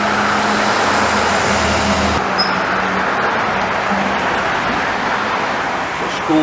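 A school bus and other road traffic pass by on a street outside, producing a loud, steady rumbling roar of engines and tires that continues throughout, with the bus nearer at the start.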